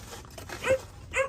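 A chained dog on a Philippine property gives two short whimpering yips, close and fairly faint, over a low background hum.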